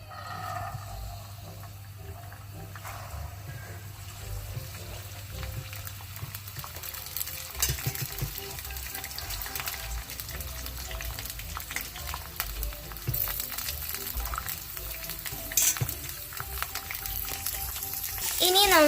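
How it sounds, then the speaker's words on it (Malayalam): Green peas fry in oil in a deep frying pan, a steady bubbling sizzle with clinks from a net-type spoon, growing louder toward the end, with a person talking intermittently over it. "ഇനി നമുക്കത് ഫ്രൈ ചെയ്യാം. ഇതിനൊക്കെ കിലുകിലാ സൗണ്ട് കേൾക്കും."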